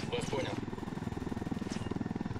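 Helicopter in Ghost Recon Wildlands gives a steady, rapid rotor thump with a low engine drone, fairly faint and continuous, while someone talks over it at the start.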